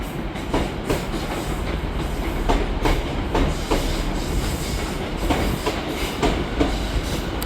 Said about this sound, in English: And arriving in here is 150-127, terminated here.